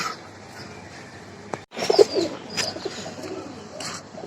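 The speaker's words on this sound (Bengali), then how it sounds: "খুবই সুন্দর কবুতর।" Soft, low pigeon coos close by over a quiet background, with a few scattered clicks and rustles.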